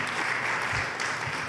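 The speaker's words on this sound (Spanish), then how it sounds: "Un aplauso para Adriana, por favor." A church congregation claps at a Spanish-language service. The applause is brief, close and moderately loud, with scattered claps over a dense wash.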